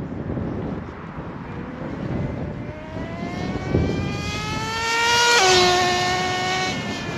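An HPI RS4 nitro RC car with a sluggish-running engine makes a high, thin whine that climbs in pitch as it speeds up, then drops sharply as it passes close by, with wind rumble underneath.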